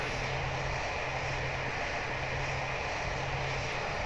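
Steady, unbroken drone of an airplane engine from a pilot training simulator game, a broad constant roar with a faint low hum running through it, loud and alone with no talk.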